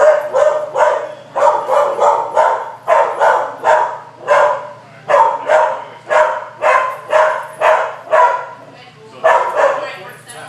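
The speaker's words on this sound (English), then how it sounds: "He's a trained protection dog, and I will send him on you." A trained protection dog barks steadily and aggressively during a protection work demonstration, about twenty loud, close barks in an even rhythm with little pause between them.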